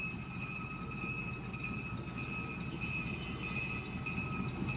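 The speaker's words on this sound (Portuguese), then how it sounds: "Aqui está vindo o trem, né? Estamos vendo aqui o trem vindo, né?" A train draws near on a single-track rail line with a steady rumble and a sustained high wheel whine. The sound holds at a moderate level throughout, with faint rattling over it.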